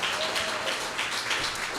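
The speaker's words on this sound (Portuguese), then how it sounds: "Eu queria que você aplaudisse o Senhor." A church congregation applauds for a young girl's eighth birthday during a service, a brief dense wash of clapping at moderate distance with no clear voices.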